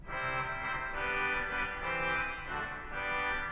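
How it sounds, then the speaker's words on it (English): Gentle 8-foot petite trompette reed stop on a huge church pipe organ in Washington DC, sounding a steady, nasal chord sequence with soft phrase swells, no voices over it. "Petite trompette 8 foot."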